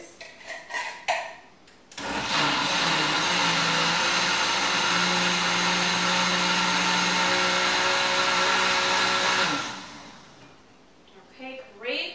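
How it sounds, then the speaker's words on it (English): A countertop blender purées pumpkin soup in one loud, steady whirring run of about eight seconds, then spins down, with brief talk just before and after. "So we're going to put the blender on"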